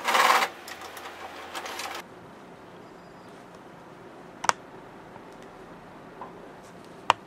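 A sewing machine stitches the dart lines of a skirt piece in a quick, loud whirring burst lasting about two seconds. A few isolated clicks and taps follow in the quiet that comes after.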